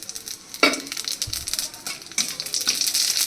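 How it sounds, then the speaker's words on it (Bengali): Radhuni and panch phoron spices dropped into a small amount of hot oil, a close crackling sizzle with a few sharp pops and light utensil clinks, no voices. "এবার এর মধ্যে আমি দিচ্ছি একে একে, এই দেখো, রাঁধুনি আর 5 ফোড়ন দিচ্ছি"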